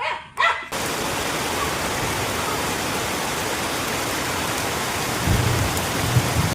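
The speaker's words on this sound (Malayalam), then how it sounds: "ഈ മഴയത്ത് ഇടിവെട്ടാനുള്ള ചാൻസ് ഉണ്ട്" Steady heavy rain pouring outdoors, a dense continuous hiss on surfaces close by, preceded by a brief sharp noise at the start and faint low rumbles near the end.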